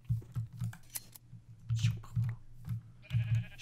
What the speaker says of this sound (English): You get caught up in the sheep shearing.